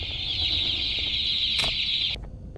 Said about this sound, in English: Chicken is literally waiting for me.